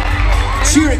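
Crowd at a cheerleading competition cheering and whooping as teams are announced, a continuous dense roar with a sharper shout rising near the end.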